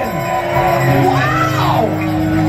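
A concert crowd at a guitar music event erupts in loud cheering, with whoops, yells and sustained shouting layered over one another, close and continuous throughout.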